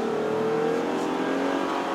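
A Jeep Gladiator V6 held in manual mode revs steadily with a sustained, droning engine note from inside the cabin, loud and continuous with no talking over it.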